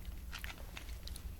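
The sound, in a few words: chewing crunchy candy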